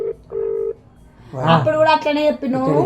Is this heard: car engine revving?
no